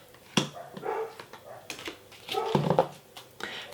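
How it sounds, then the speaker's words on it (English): Dogs barking in the background of an indoor room, several sharp bursts and yelps scattered through a few seconds, fairly near, with some faint voices and household noise around them. "sorry for the dogs barking"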